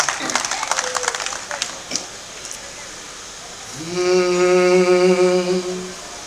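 An audience at a Hindi poetry gathering, a kavi sammelan in Kharak, Bhiwani, breaks into a short burst of scattered clapping. A voice then rises into a long, sustained tone.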